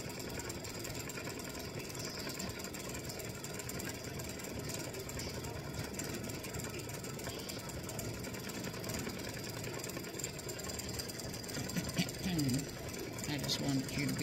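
Embroidery machine stitching out a daisy and hummingbird edge-to-edge design, a steady fast mechanical chatter that runs continuously at moderate volume throughout.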